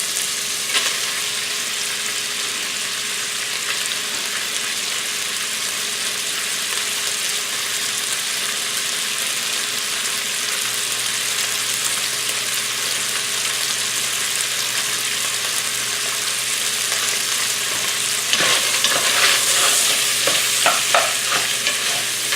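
Onion fries in a pan for a pasta sauce, a loud, steady hiss of sizzling oil held throughout, with a few brisk stirring scrapes and clicks near the end.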